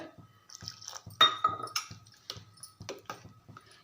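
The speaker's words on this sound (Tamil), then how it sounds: "காய்ச்சி ஆற வச்ச பால் கொஞ்சம் கொஞ்சமாக ஊற்றி கலந்துக்கலாம்" Cooled boiled milk is poured little by little into biscuit cake batter as it is mixed, with wet, sloppy stirring and splashing in short irregular bursts, close by.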